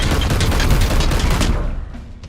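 A dense, continuous roar of rapid video game gunfire, loud and unbroken, with many overlapping shots that thin out toward the end.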